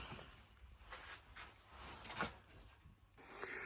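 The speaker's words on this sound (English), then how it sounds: "we'll shut the bolt" A .223 Tikka TAC A1 rifle bolt is pushed forward and shut on a round, giving a short, quiet metallic slide and click up close, with faint handling noise around it.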